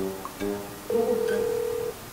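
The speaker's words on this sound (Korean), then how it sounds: "전화를 한번 걸어보겠습니다" A telephone call is dialed on a handset, giving a few short key tones and then a steady electronic tone lasting about a second, clear and close with no talking.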